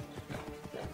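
Horse hooves clip-clop in the video game Assassin's Creed Origins, a brief run of soft, rhythmic footfalls under a dense, steady game soundscape.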